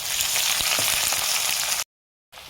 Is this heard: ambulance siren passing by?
no